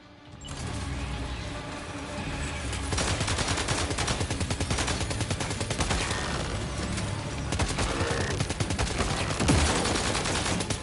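Sustained, rapid automatic gunfire fills a firefight in the video game Death Stranding 2, loud and continuous for about ten seconds with heavy bursts and clattering mechanical noise throughout.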